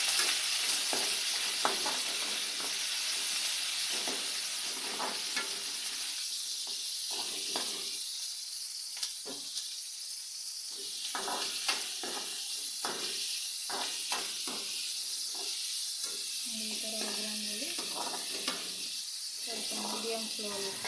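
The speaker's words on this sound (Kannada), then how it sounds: "ಇದು ಸ್ವಲ್ಪ ಫ್ರೈ ಮಾಡಬೇಕು ಈರುಳ್ಳಿ ಜಾಸ್ತಿ ಫ್ರೈ ಮಾಡಬೇಡ" Onions fry in a pan for buttermilk sambar, producing a continuous close sizzle and hiss with intermittent stirring scrapes throughout.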